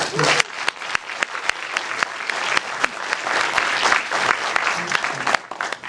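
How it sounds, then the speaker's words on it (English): Audience applause fills the room after a film screening Q&A with the producers, steady dense clapping with sharp individual claps throughout, loud and close. "Please give them again a round of applause."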